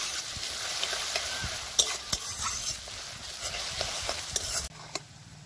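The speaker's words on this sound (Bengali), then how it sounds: "পেঁয়াজটা খুব ভালো করে ভাজতে হবে যতক্ষণ না পেঁয়াজটা থেকে গোল্ডেন ব্রাউন কালার আসছে।" Onions fry and are stirred in a pan until golden brown, a close, dense sizzle with repeated sharp scrapes and taps of the spoon, then the sound drops abruptly to a quieter hiss near the end.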